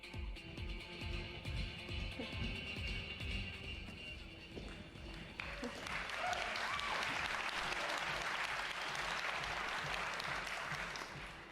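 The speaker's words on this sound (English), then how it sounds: "thanks for the warm applause" A conference audience at E3 2019 claps steadily throughout. The applause starts with some rhythmic claps and then swells into a dense, sustained ovation.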